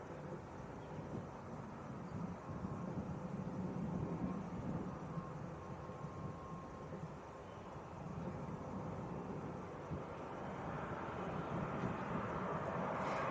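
A Maltese-registered Ryanair Boeing 737-800 taxiing out at an airport gives a steady, distant jet engine rumble and whine that swells slightly toward the end, with no talk.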